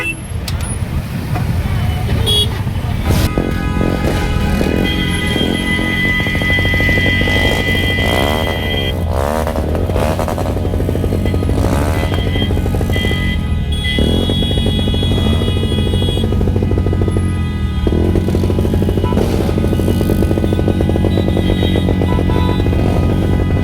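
A helicopter flies nearby over Miraj's busy election-time streets, its steady engine and rotor drone continuous and loud, mixed with road traffic while people talk over it.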